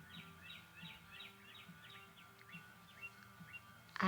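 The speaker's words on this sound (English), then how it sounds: "so you can hear all the birds talking to me." Quiet outdoor birdsong: a bird repeats short, bright chirping phrases at an even pace, with faint background calls and no talking.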